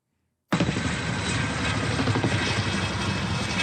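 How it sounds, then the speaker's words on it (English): After a brief silent moment a military helicopter's rotor and engine drone sets in abruptly and holds steady and fairly loud, a continuous whirring roar with no voices over it. "You got a military helicopter circling like there it is."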